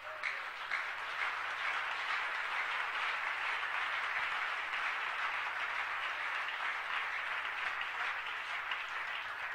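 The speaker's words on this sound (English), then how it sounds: "can you give a clap offering for the Lord?" Church congregation clapping together as an offering of praise, a dense, steady wash of applause sustained for about ten seconds at moderate distance.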